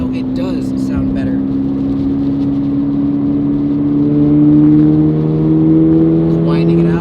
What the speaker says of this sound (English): Just engine sound, no rumble. It's got those equal length headers,